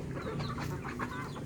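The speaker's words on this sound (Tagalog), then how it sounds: "Ang dami naming manok. Puro native po yan." Native chickens cluck continuously in a dense overlapping flock, close by, with no talking.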